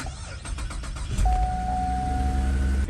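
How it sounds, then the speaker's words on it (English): A Ford car's engine cranks with a quick series of clicks, then catches and settles into a steady, close idle with a high whine running over it. "Now let's start the car and see if the car overheats."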